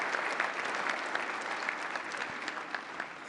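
Steady applause from a large audience at a formal press dinner, a dense wash of many hands clapping continuously at even volume, with no voices over it.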